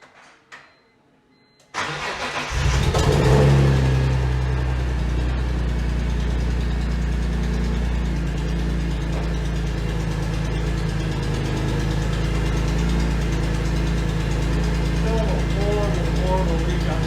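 A BMW E46 M3 with a leak at the head and troublesome headers cranks and fires up after a brief pause. The engine settles into a loud, rough idle, blips of revving come near the end, and talking runs over it.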